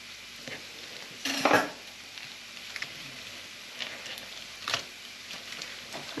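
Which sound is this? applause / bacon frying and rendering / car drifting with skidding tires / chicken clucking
bacon frying and rendering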